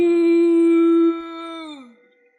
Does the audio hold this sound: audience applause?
no